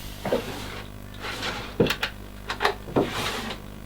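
A handful of wooden drawers in a custom van conversion slide open and shut in quick succession, each with a short scrape and a light knock, fairly close by.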